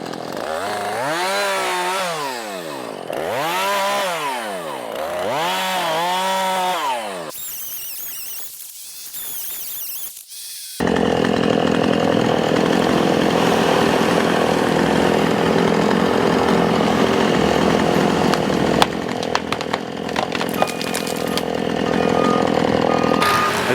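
A forestry mulcher pushes over and grinds up a pine tree about 15 inches thick at the base. Its engine revs up and down in repeated swells, then settles into a loud, sustained grinding roar that lasts to the end.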